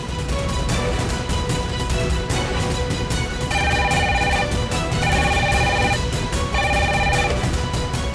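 A telephone rings in repeated electronic bursts, each trill pattern sounding in regular cycles over a constant background noise, loud and close, with no talk.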